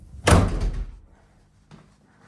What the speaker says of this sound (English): I'm going to shut this door because I don't want the dogs wandering through.